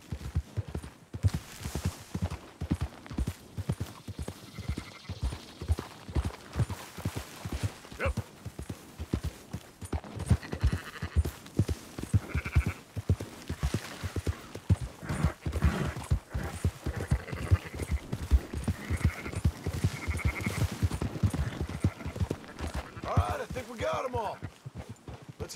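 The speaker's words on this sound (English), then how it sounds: "Marston, why don't you leave the sheep to me? You ride Shank." Horse hooves clip-clop steadily in Red Dead Redemption 2 while riding on horseback and herding sheep, a fast, dense rhythm of hoofbeats running throughout with game voices talking over parts of it.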